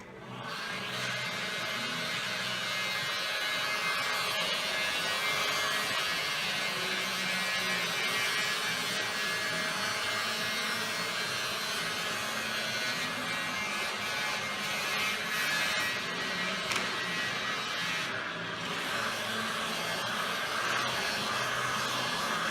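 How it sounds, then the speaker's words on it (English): A heat gun blows steadily to flash off fresh aerosol paint on a 1970 VW Bus, a continuous hissing whir held at an even level for the whole stretch with no talk. "And we'll let that dry, flash it off with the heat gun."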